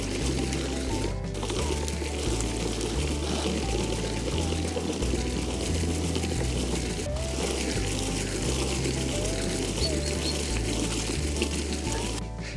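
Water poured steadily onto a lawn beside a Toro mower, a continuous close splashing stream lasting throughout, with music in the background.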